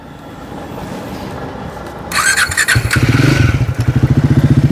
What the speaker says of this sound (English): So as you heard, the motorcycle sounds really premium and nothing like a small bike